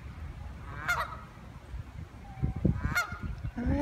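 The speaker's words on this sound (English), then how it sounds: "Get these geese out of the way." Geese honk loudly nearby in a Hollywood cemetery, two or three harsh calls spaced a couple of seconds apart, with rustling and shuffling between.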